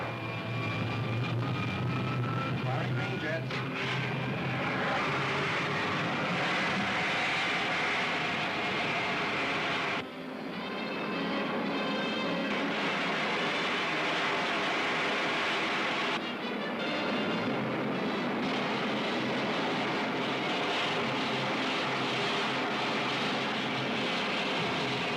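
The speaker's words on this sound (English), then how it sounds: "Fire pilot jets. Firing green jets." Spaceship jets firing in an old sci-fi film serial, a long steady roaring rush with rumbling undertone, briefly cut off twice, no voices.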